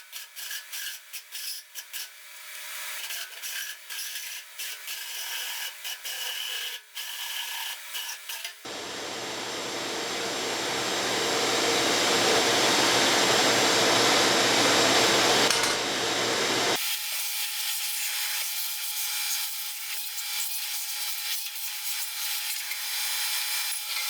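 A 4.5 inch hole saw cuts into a fuel tank, a harsh grinding rasp that swells and holds for several seconds. A shop vacuum roars steadily before and after the cut, near and loud.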